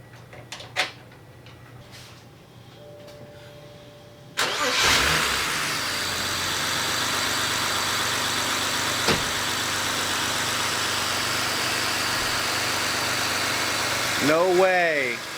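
A BMW 535xi wagon engine cranks and catches after a few quiet seconds, then idles steadily from close by and revs briefly near the end.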